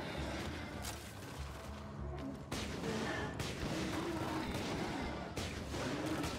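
Gunshots in the video game Borderlands 2, repeated blasts and bursts of fire over a dense battle soundscape, loud and close.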